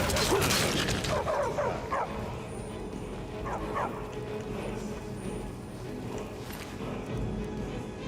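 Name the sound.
dog barking in video game Skyrim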